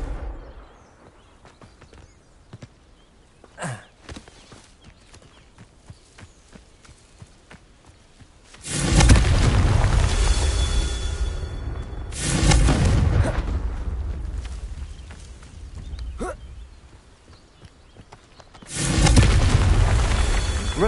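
Confringo blasting spells exploding in Hogwarts Legacy: three heavy booming blasts, each a loud burst that rumbles and decays over a few seconds, separated by quieter stretches with footsteps and small clicks.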